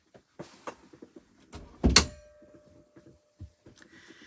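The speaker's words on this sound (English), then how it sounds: "Let me just shut the door." A door pushed shut indoors, landing as one solid thunk near the middle, surrounded by quiet rustling and small handling knocks in a calm room.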